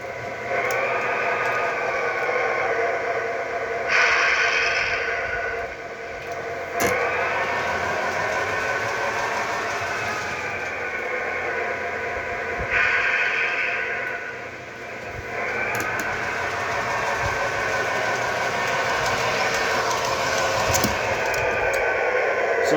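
An MTH model train locomotive with a QSI sound system runs steadily, a continuous mechanical hum and rumble with brief louder surges, alone with no talk.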